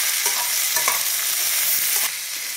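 Pumpkin palya with salt is stirred while frying in a pan, a steady bright sizzle running throughout with several soft spoon scrapes on top, fairly close and without any talking.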